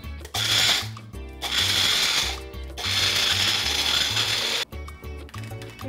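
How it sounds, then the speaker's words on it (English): An electric grinder whirs loudly in several bursts grinding spices, with short pauses between runs, a harsh buzzing motor grinding close up. "So we're gonna put it into our grinder."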